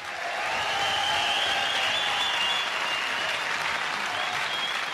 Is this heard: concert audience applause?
yes